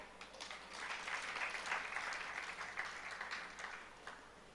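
Distant, faint applause from an audience at a Jain religious discourse swells and then eases, a soft continuous patter of many hands with no talking in it.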